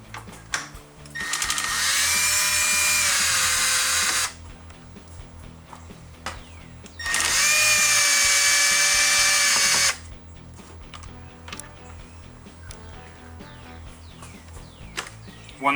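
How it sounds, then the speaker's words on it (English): A power drill drives T25 Torx bolts out of a car's rear hatch during a reverse light install, in two sustained whirring bursts of a few seconds each, loud and close, with tool clicks and handling noises between. "We're going to remove this top bolt and this bolt right here."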